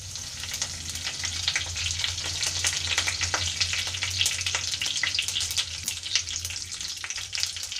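Curry leaves dropped into hot oil for pepper squid crackle and sizzle loudly and steadily, with sharp popping spatters throughout and no talking.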